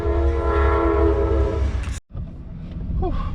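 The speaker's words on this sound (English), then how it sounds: "We'll continue this conversation on the road while this train goes by." A train rumbles past with a long, loud horn blast; the noise cuts out briefly, then low rail clatter continues.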